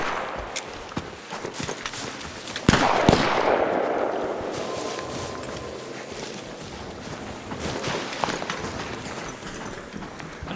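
Gunfire in the video game Arc Raiders, several sharp shots over a steady background rumble, the loudest burst near the middle with more scattered shots later.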